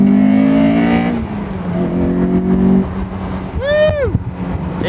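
A car downshifts into second and pulls hard, the engine note climbing loudly and then dropping away, followed by another engine sweeping past, all close and continuous.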